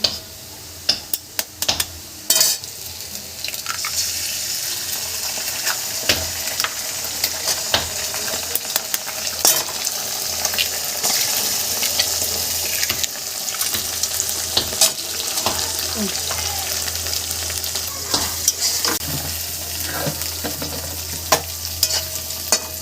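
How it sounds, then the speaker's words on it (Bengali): Onion and egg fry in a pan with a constant loud sizzle and repeated close scraping and stirring of a spatula, with no voices over it. "এরকম করে পেঁয়াজটা ভেজে ডিমটা ভেজে নেবেন"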